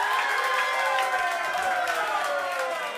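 A live roast battle audience erupts in cheering and applause for a contestant. Dense clapping blends with shouting voices, and the whole crowd stays steady and loud for the full stretch.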